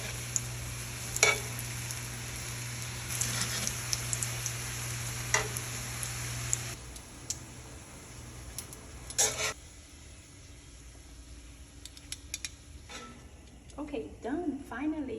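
Fish frying in butter and olive oil in a pan gives a steady sizzle with a few clinks as the pieces are flipped, then fades to a quieter spatter while a person talks.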